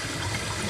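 Cool tap water runs steadily while a tie-dye shirt is rinsed indoors, a constant close splashing wash of water with no breaks and no talking.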